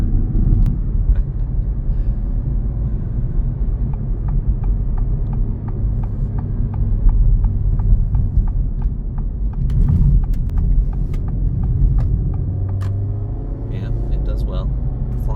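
Acura Integra Type S driving through city streets, a steady low engine and road rumble heard from inside the cabin with a run of regular light ticks, while a person talks over it.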